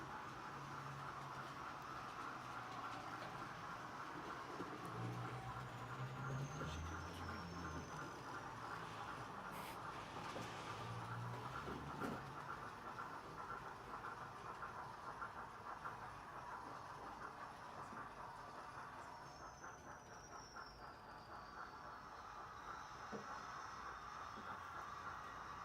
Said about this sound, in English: bit of a steam rail special for you with the new A2 986